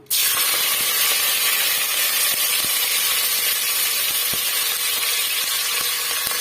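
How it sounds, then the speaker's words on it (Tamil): Curry leaves hitting hot oil and sizzling fiercely in a pan for a Tamil kootu dish, a loud, steady hissing spray with faint intermittent pops and clicks throughout. "எண்ணெய் நல்லா சூடாயிட்டு வந்துடுச்சு கருவேப்பிலை வந்து சேர்த்துக்கலாம்"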